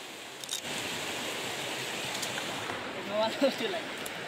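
Broad, steady rushing of flowing river water close by, with a faint voice murmuring briefly near the end.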